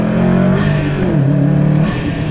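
A loud, throaty car engine revs and holds, the note rising and dipping in short bursts, close by with no voices.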